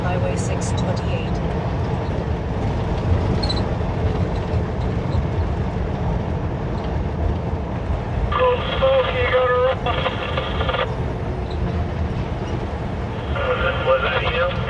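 Steady rumbling train noise rolls past throughout in Alberta, Canada, with bursts of higher rattling and screeching partway through and again near the end.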